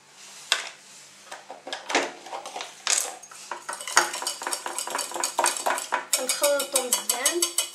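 A spoon scrapes and clinks against a baking dish while pasta gratin with béchamel and grated cheese is stirred, in quick, irregular, close strokes.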